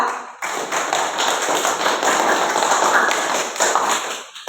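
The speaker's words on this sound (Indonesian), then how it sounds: "kasih aplaus dulu untuk kelompok 2" Classroom of sixth-grade students applauding group 2, a sustained burst of many hands clapping together, bright and steady for several seconds before tapering off.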